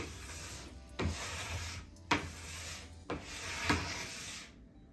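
Wax being scraped off a snowboard base at home, with three long, even rasping strokes separated by short pauses, each one close and dry and ending in a light tap.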